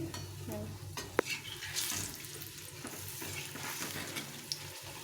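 Fritters (bora) frying in a pan, a soft, fairly quiet sizzle with scraping stirs and an occasional sharp clink of a utensil, no voices.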